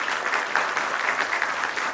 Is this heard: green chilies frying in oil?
no